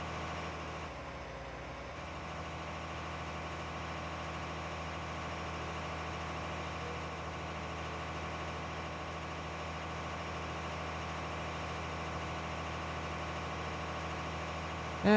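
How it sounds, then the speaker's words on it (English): A John Deere 9620 RX tractor in Farming Simulator 19, hitched to a John Deere disc, idles with a steady, low droning engine hum and even tonal drone, unchanging for about fifteen seconds with no talk. "John Deere 9620 RX with the John Deere disc behind it here"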